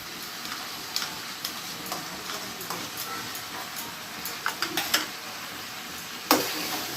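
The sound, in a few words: mutton frying with fat and yogurt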